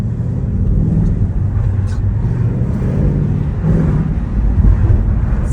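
Loud, steady roar from a Ford Mustang GT of 450 hp in sport mode, heard with the window open, holding a heavy low rumble with slight surges throughout.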